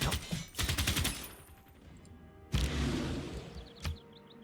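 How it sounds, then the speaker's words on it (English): Airstrike in the strategy game Civilization 6: a burst of rapid rattling gunfire followed by a heavy blast and a sharp crack, with faint chirping in between, fairly loud and alone. "Airstrike, airstrike."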